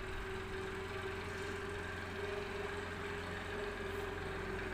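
A tractor engine runs nearby with a steady, low droning hum and a constant tone that holds for the whole stretch. No other sound and no voices.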